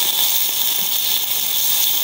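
Chicken pieces fry in oil in a frying pan, giving a steady, fairly loud sizzling hiss that continues evenly without any talk.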